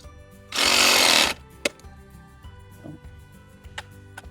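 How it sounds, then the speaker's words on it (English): A DeWalt Sawzall reciprocating saw cutting PVC pipe on a ranch, one loud close buzzing burst of under a second, followed by scattered knocks and clicks against a quiet low hum. "Sawzall is my preferred method"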